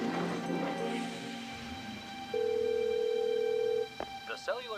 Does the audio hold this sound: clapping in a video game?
no